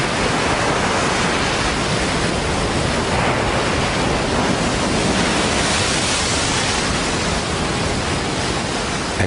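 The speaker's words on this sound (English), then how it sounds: "The waves are as tall as a 10-story building." Huge storm waves crash around an offshore oil rig, a loud, continuous roaring wash of water and wind with no break and no voices.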